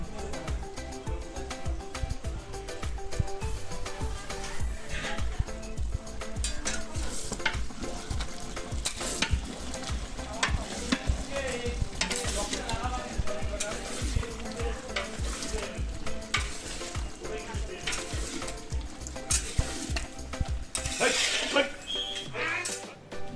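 Pointed gourd and shrimp fry in a pan with Kashmiri chili powder added, a constant loud sizzle mixed with rhythmic stirring scrapes and utensil knocks against the pan over a long stretch.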